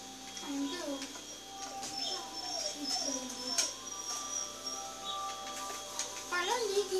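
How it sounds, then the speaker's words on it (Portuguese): A dog whimpers and yips in soft, high, wavering cries scattered through the stretch, set against a background of game sounds and faint voices. "aparecer um cachorro latindo, um chorando,"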